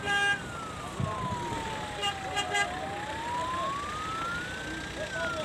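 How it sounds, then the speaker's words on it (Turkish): An ambulance siren wails at a distance on the closed D100 highway in Düzce, Turkey, its pitch sweeping slowly down and back up, with traffic noise and muffled voices around it. "Buradan bir ambulans."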